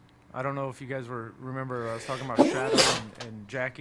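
One loud, sharp sneeze bursts out in the middle of a man's ongoing speech, close to the microphone, with talking before and after it.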